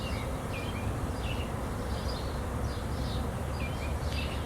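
A swarm of honeybees hums in a dense, steady outdoor drone that fills the whole stretch, with faint bird chirps over it and no voices.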